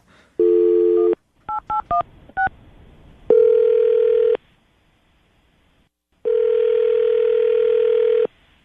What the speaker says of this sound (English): Lily, we're about to call Mark and see if we can get him on the phone